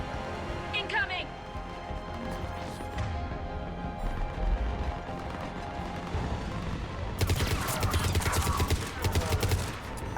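Assault rifle fire in the video game Mass Effect 3, rapid bursts mixed with other combat noise, growing louder and denser toward the end, with someone talking over it.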